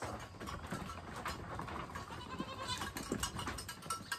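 Goats bleat intermittently while one drinks water, over a steady, busy farmyard background, with a few wavering calls standing out midway through.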